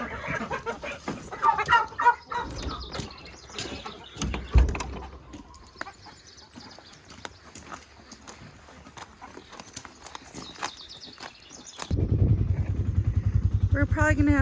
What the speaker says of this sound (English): Okay, got a handful of chickens.